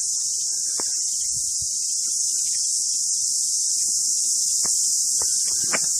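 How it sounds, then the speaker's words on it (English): Cicadas drone in New Zealand countryside above a river lined with wildflowers, climbing ivy and big ferns; a loud, steady, high-pitched insect chorus runs throughout, with a few faint short chirps or knocks underneath. "Bees buzzing, cicadas chirping."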